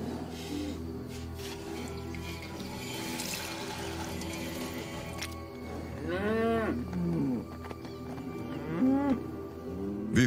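Cattle kept at livestock posts on farmland in Namibia low with several drawn-out calls in the second half, over a steady background murmur and faint trickling water.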